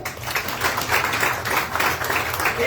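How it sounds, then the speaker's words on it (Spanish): Church congregation at an anniversary service of the Tabernáculo Prados de Venecia applauds, steady dense clapping from a large crowd with no pauses and only faint voices underneath. "¿Le da un aplauso al Señor?"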